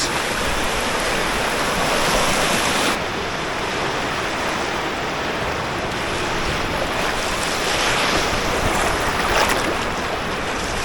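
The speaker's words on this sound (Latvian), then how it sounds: "Jūra mierīgi viļņojās, mazi vilnīši tādi smuki." A calm sea rolls in small gentle waves, a steady broad wash of water and wind that is loud and continuous from a boat or shore on the Salaca, with no voices.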